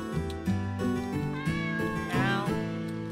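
A cat meows repeatedly in a video game, several tonal calls over a layered music bed, fairly close and clear, with no talk over them.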